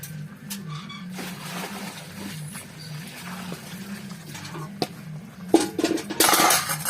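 Fish pieces slide into a pan of simmering radish fish curry with cumin paste. A low steady hum and scattered clinks lead into a loud, bright burst of sizzling near the end.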